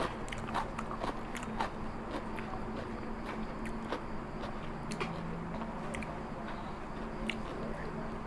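Someone bites and chews crispy fried wontons up close, irregular crunchy snaps scattered over a steady background hiss.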